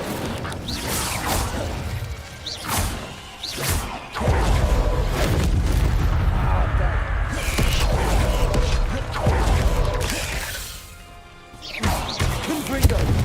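Fire and explosion spells cast in Hogwarts Legacy, a run of loud crackling blasts and whooshing bursts one after another, with a voice calling out spell names over them.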